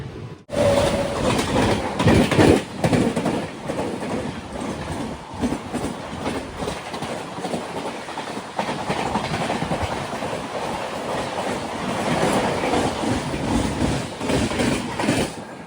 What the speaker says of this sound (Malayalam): ട്രെയിൻ ഇപ്പോൾ അടുത്ത ഒരു സ്റ്റേഷനിലേക്ക് എത്തുകയാണ്